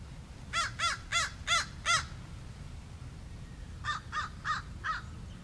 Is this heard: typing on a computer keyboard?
no